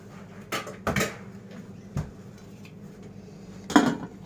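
A lid goes onto a pot of freshly strained milk in a home kitchen, with a few scattered metallic clinks and knocks and a sharper clatter near the end. Nothing else is heard.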